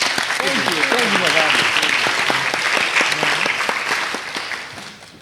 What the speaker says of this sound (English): So clap it up for our wonderful actress.